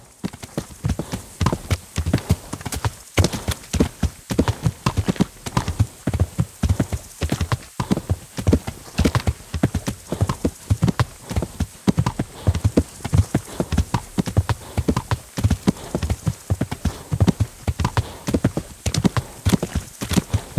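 Horse hooves clip-clop steadily on the ground in the medieval video game Kingdom Come: Deliverance, a fast continuous rhythmic trot close and clear for the whole stretch, with faint background ambience and no voices.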